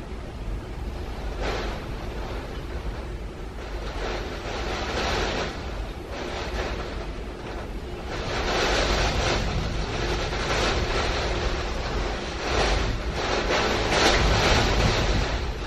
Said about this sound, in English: You can just hear it, the wind beating and the rain beating against the house